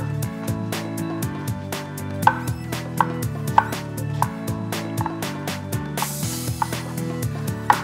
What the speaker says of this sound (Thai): หอมใหญ่เนี่ยสับละเอียด